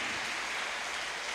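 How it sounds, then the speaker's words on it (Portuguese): A church congregation applauds in praise, producing a brief, dense, steady wash of clapping that is fairly soft and unbroken, with no voices on top. "Levanta a sua mão para o alto e aplauda ao Senhor."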